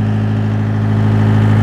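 A bulldozer's diesel engine runs steadily during a pre-start check, a loud, close, even low rumble with a constant drone and no change in pitch, with no voices over it.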